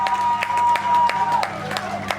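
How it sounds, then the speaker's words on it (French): At a civil wedding ceremony, an audience claps in a short, uneven burst of applause, individual claps sharp and fairly close, with a steady tone and murmuring voices underneath. "La monogamie, applaudissez s'il vous plaît."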